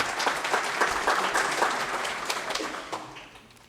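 A crowd applauding steadily for all the teams at a quiz competition, dense clapping that holds strong and then tapers off toward the end.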